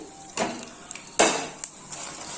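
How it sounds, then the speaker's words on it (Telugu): Fenugreek, red chillies, cumin and coriander seeds being stirred in hot oil in a pan, heard as a few distinct scraping clinks of a utensil against the pan with a soft sizzle between them, close and moderately loud, no talking. "ఇలా అన్నీ వేసి కలుపుకొని దూరగా వేయించుకోవాలి"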